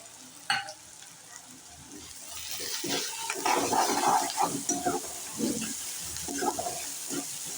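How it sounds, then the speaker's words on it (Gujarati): Chopped onions, ginger and green chillies sautéing in a pan for Gujarati batata poha, a steady close sizzle and frying hiss with stirring scrapes throughout, a sharp knock near the start. "મરચાંને પણ આપણે સાતળી નાખીએ"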